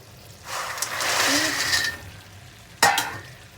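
Crispy khanom krong krang dough shells stir-fried in a sticky sauce of garlic, coriander root, sugar, fish sauce and salt, giving a broad sizzle and scraping that swells and fades, ending in a sharp clatter.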